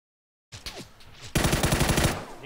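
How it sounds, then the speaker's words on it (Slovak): Automatic gunfire in a video game, aimed at the player: a brief noisy burst, then a loud, rapid, evenly spaced machine-gun volley close up, with no talk. "Niekto po mne strieľa."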